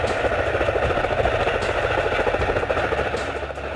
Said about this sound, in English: Military transport helicopter.